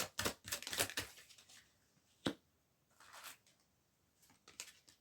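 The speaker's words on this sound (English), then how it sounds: "Got too many cards falling out, so I'm going to shuffle." A deck of playing cards being shuffled in quick riffling bursts, with a sharp snap in the middle and a softer flurry afterward, close and fairly quiet with no talk.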